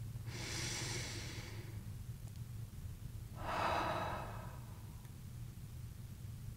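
Two slow, deep breaths during a guided meditation, each a soft airy inhale or exhale lasting over a second, close and quiet over a low steady hum.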